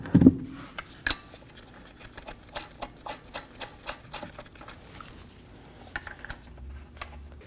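Lug nuts being threaded by hand onto a wheel of a 2016-2020 Kia Sorento: faint, close metallic clinks and light scraping in an irregular patter, quiet throughout, with no talking.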